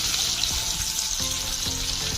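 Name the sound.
cashews and raisins frying in a pan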